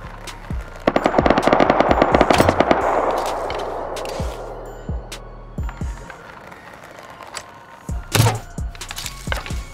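Gunfire in the survival video game Rust, a rapid automatic burst of shots at the start, then scattered single and double shots with echoing tails, loud and close.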